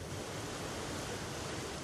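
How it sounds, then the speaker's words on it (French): Water from a river rushing steadily through stone galleries beneath Paris, driving two huge wheels that power giant pumps; a dense, even roar with no breaks, no voices. "Le flot fait tourner deux immenses roues qui entraînent deux pompes géantes"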